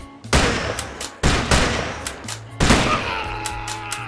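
Gunfire in a shooter video game: three separate loud shots, each a sharp crack followed by a rumbling decay, spaced about a second apart, with no talk over them.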